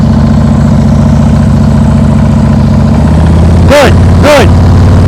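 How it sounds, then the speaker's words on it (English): A motorcycle engine running low and lugging with too little throttle, giving a loud, steady low chugging drone, with two brief sharp sweeps near the end. "If I hear your motor going like this, your throttle's too low."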